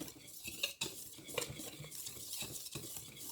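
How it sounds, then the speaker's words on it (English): Dry baking ingredients for buttered mamon being mixed in a bowl, quiet scraping and tapping of a utensil against the bowl with a few sharper knocks, no speech. "So what we will do is simply mix all our dry ingredients all together."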